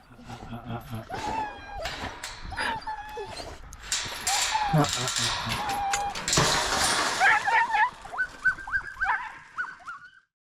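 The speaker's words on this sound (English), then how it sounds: "I'm taking out Boogie and Hank, and this is normally the way I let them out for exercise" Several hunting dogs barking, yipping and whining excitedly as they are let out for exercise, with occasional voices and movement nearby, growing louder toward the end.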